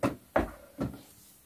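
A drawer on a toy storage unit holding Sylvanian Families baby sets slides and bumps three times in quick succession, close and fairly quiet, with no talking.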